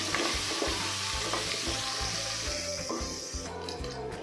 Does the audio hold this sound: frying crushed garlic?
yes